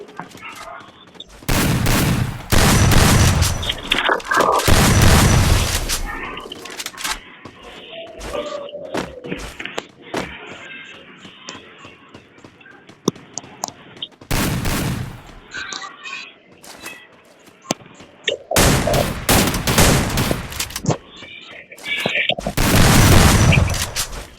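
Gunfire in a shooting video game, with loud bursts of rapid automatic shots separated by quieter stretches, repeated volleys clustered near the start, middle and end, and a person talking between them.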